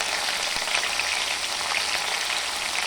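Cumin, coriander leaves, curry leaves and green chilli sauté in hot oil for a breakfast dish, giving a dense, even sizzle like steady rain. It sounds close and continuous, with no talking.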